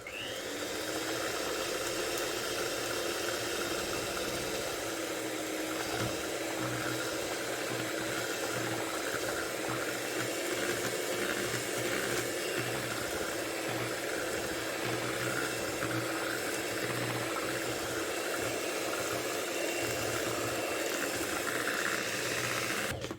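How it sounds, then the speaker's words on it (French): An electric hand mixer blends orange cake batter with a steady, continuous whirring drone and light rattling that runs unbroken from start to finish, without any talking. "Sachez que j'ai utilisé un batteur électrique."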